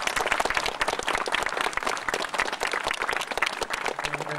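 Dense applause from an audience at an outdoor event in Mönsterås, many hands clapping steadily and fairly close throughout.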